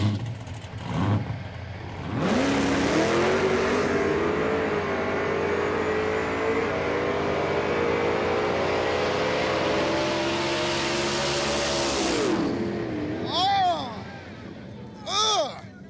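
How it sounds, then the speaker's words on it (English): A supercharged Pontiac Firebird launches hard down a drag strip, its engine roaring loud and rising through the gears for about ten seconds before the note drops away, with faint voices near the start and end. "It spun out of the hole, then it hooked, and it was hauling ass right until I got to the top of second gear"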